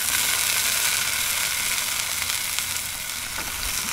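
Beer brats sizzle on a Blackstone griddle over medium to medium-high heat. A dense, steady frying hiss fills the whole stretch, loud and close, with no talking.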